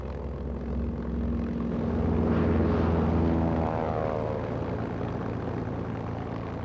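German propeller-driven bomber aircraft of a WWII bombing campaign against Britain drone steadily overhead, a deep continuous engine roar that swells as it passes near and then holds at a slightly lower level, with no voices.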